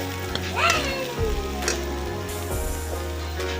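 Potatoes and radish pods frying in a pan for an aloo moongre dish, a steady close sizzle with a few clinks and stirring sounds over the crackle.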